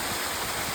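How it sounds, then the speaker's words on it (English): Silver Waterfall in Sa Pa, Vietnam, roaring as a loud, steady broadband rush of falling water heard up close, continuous and without any voices. "the waterfall is pretty spectacular. It's pretty loud as well"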